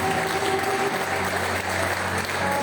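A Baptist church congregation applauds during a Wednesday service, a loud, dense clapping that holds steady under a sustained musical tone.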